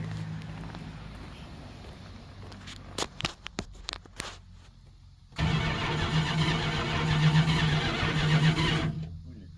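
A 1969 Chrysler 300 big block engine cranks in a few uneven bursts, then catches and roars into a loud, steady idle that holds close by before cutting off abruptly.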